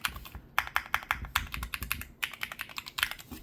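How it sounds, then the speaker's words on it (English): Typing on an EPOMAKER P75 mechanical keyboard fitted with tactile Wisteria switches produces a fast, close run of crisp keystrokes in uneven bursts, with no voices. "It has a great sound and a great effect when you're typing on it."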